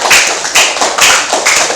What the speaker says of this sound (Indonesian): Ya, tepuk tangan dulu dong untuk semua teman kalian.